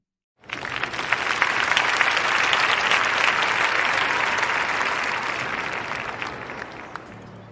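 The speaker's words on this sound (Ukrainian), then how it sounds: "Questi applausi sono per te." Applause sound effect: a crowd bursts into sustained clapping that starts abruptly and holds loud and dense for several seconds before easing slightly.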